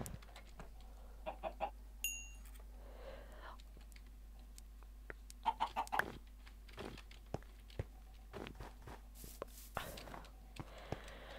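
Short chicken clucks in a video game pop up in scattered bursts, with quiet whispery speech and small clicks between them.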